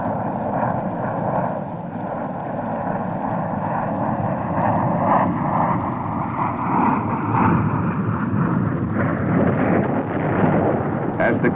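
Fighter aircraft flying over during the Vietnam War produce a loud, sustained engine roar with a slowly shifting pitch, steady and continuous throughout with no voices.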